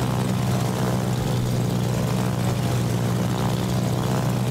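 Propeller aircraft engines drone loudly and steadily as German carrier bombers fly in World of Warships, a continuous near hum with no pauses and no voices.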